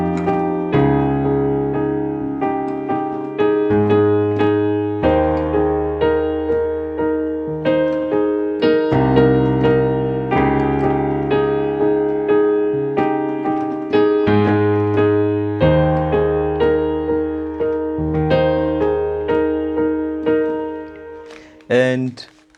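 Solo piano playing the refrain of a worship song, steady sustained chords with low bass notes and a simple melody on top, clear and close with no voice.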